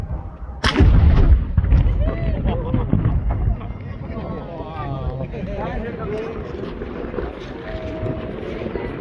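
A historic cannon at Citadel Hill in Halifax fires one loud, booming shot near the start, followed by a long rumbling echo, with a crowd talking and reacting quietly afterward.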